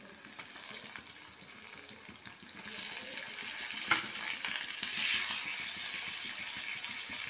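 Four fish hiss and sizzle as they go into hot oil in a pan with a fried onion for macher vindaloo, a steady crackling fry that swells louder partway through, with small clinks from the pan.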